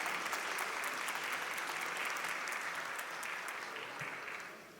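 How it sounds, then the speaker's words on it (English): An indoor audience at India Day 2025 speeches and awards claps steadily in a sustained round of applause that fades slightly at the end, with no talking. "Please give a big round of applause for all these organizations."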